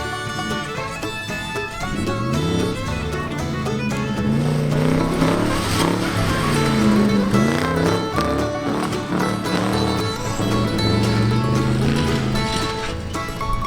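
An old dirt-track Dodge Charger, retired for 48 years, races around a dusty dirt track. Its engine roars loud and steady, its pitch rising and falling as it accelerates and eases off through the corners, with no talking.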